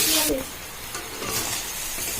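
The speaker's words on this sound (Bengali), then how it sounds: "আমি ভাজাটা করে নিচ্ছি, বেশি ভাজা করবো না।" Vegetables for a soup frying in a pan as they are stirred, with a soft continuous sizzle and a scrape or two of the spoon, heard close up and without talk.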